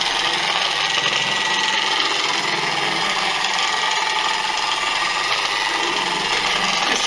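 A Guild dual-action polisher runs at speed setting 2.5 as a steady, loud, continuous whir with a gritty rubbing texture from the pad working the surface, close by and uninterrupted, with no talking.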